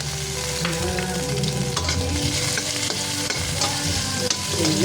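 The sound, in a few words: stirring tomatoes frying in a pan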